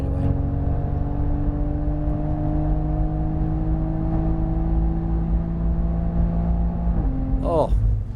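A 2020 Toyota Supra engine drones loud and close with a steady high whine at full throttle on a track straightaway, then the pitch drops sharply near the end as if shifting or lifting off the throttle.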